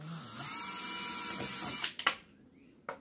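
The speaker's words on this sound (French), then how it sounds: "On peut en profiter pour déjà percer la 2e bouteille." A hand drill bores into a plastic bottle, a thin whining drone that holds steady for nearly two seconds, then ends in a few sharp clicks and a final clack, close and quiet.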